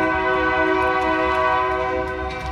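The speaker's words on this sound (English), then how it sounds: "Look at that train, bro." A train passing nearby outdoors, its horn blaring a steady, loud multi-tone chord over rumbling wheels for the whole stretch, fading slightly at the end.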